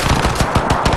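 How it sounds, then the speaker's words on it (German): Rapid machine gun fire from the video game Crysis 3, a dense burst of close, loud automatic shots in quick rhythm lasting about a second, with no talk over it. "Wurde ich gerade angeschossen?"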